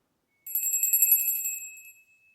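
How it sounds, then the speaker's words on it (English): A small bell rung once with a bright, shimmering tone that rings on for about a second before decaying away, alone in a quiet room. "I'm going to do a little bell"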